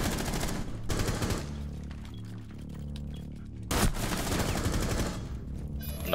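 Gunfire in the Rainbow Six Siege video game during a bomb-plant round: dense, loud bursts of automatic fire in two or three clusters, including a shot through a wall, with rumbling in-game background between bursts.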